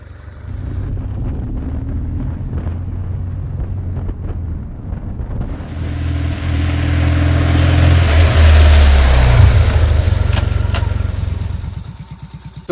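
A BMW boxer flat-twin motorcycle engine runs steadily at close range, its low throb swelling louder midway with some wind noise, then cutting off near the end.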